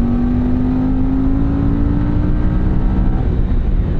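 Cagiva Elefant 750 motorcycle under way, its engine a loud, steady drone with a slowly rising tone, heard close up with no talk.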